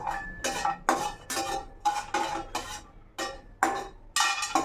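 Dry ginger pieces stirred in a pan while roasting, with a spoon scraping and knocking against the metal in a steady series of sharp strokes, close and clear, with no talk.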